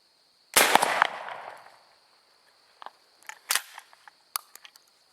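A single sharp, loud shot from a Winchester Model 1897 full-choke shotgun fired at distant bottles outdoors, followed by a decaying echo and a few later small clicks and knocks.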